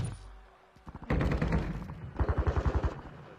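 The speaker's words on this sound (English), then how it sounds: "I got shot in the back." Rapid bursts of video game gunfire, two loud automatic volleys of close, evenly spaced shots separated by a short pause, with no voices over them.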